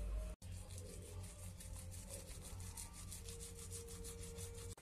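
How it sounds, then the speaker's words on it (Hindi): A toothbrush scrubs teeth in quick rhythmic back-and-forth strokes, a soft repetitive bristly rasping heard close up with no talking. "चलो तो हम ब्रश करते हैं।"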